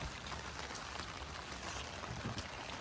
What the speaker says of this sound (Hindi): बड़ी बारिश लगी हुई है